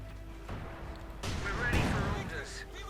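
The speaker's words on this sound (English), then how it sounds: "Further shooting there." Gunfire and explosive thumps in the Company of Heroes 2 war strategy game, a few sharp bursts and booms at moderate distance.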